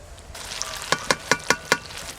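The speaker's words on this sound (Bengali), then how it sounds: "বাঁধাকপি আর মশলা একসঙ্গে খুব ভালো করে কষানো হয়ে গেছে" Cabbage and spices sautéing in a pan give off a soft, steady sizzle, broken by five sharp, evenly spaced scraping strokes of stirring near the end.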